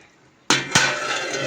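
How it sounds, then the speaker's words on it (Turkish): A pot of hot-pepper winter stew being stirred on the stove: a sudden clatter against the pot, a second sharp knock, then steady close scraping and bubbling that carries on to the end. "Şöyle bir karıştırıyorum"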